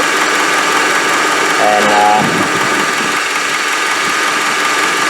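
A car engine idles steadily at close range with power steering fluid overflowing and bubbling after air was pushed out of a rotten pinion; a brief voice speaks over the constant rumble.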